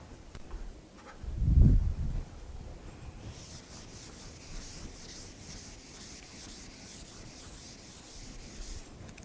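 Dry rubbing or sanding-like friction of something being rubbed on a page, one short loud burst early on, then faint hiss and rustle alone with no talk.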